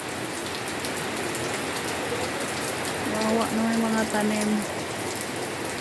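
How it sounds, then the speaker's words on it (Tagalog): Heavy typhoon rain pours in a dense, steady hiss over plants outdoors, with a person speaking briefly partway through. "ngayon pa lang malakas ng ulan, bagyo"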